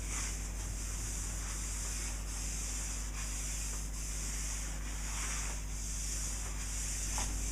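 A cloth wipes excess Danish oil off a wood surface, making a steady, close rubbing swish with regular back-and-forth strokes about every second, over a constant low hum.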